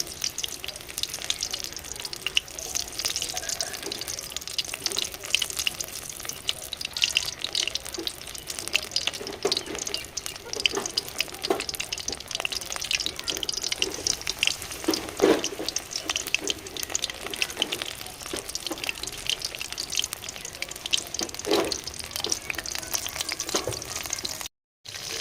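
Cauliflower pakoras frying one by one in hot oil over low heat, a steady close crackle and sizzle with scattered sharper pops throughout, alone without talk.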